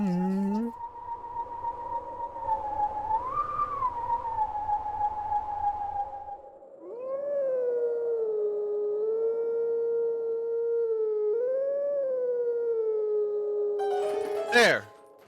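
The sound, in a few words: howl in a video game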